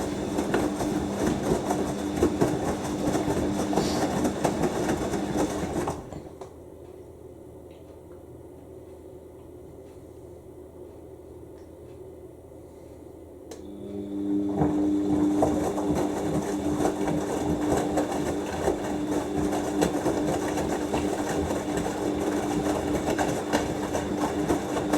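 A Siemens WH54080/07 Extraklasse XL 1000 washing machine on a 90°C cottons cycle doing a low-level rinse, with a steady churning drum hum that drops away briefly mid-clip before resuming.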